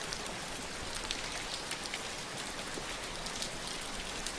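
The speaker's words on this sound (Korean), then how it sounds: "지금 여기 빗소리가 있음을 알고 있으니까" Steady rain falling and pattering on surfaces, a continuous soft hiss with scattered drop ticks during a guided meditation session, no talking.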